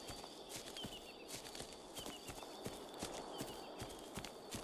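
A horse in the video game ARK: Aberration gallops away, quick rhythmic hoof clops over a bright ambient background, moderately close and steady.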